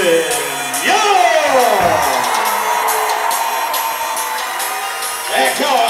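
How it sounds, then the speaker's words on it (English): Crowd noise fills a high school basketball gym during player introductions, with cheers and whoops rising and falling under a public-address announcer's voice. "A lot of crowd noise."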